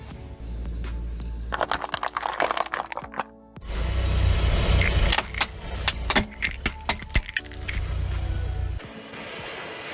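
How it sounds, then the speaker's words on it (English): A car's wheels roll over bread, with crackling, crunching bursts over a low rumbling tire and engine noise, loud and close with short quiet gaps between crushes. "This time I put some bread under the wheels of the car."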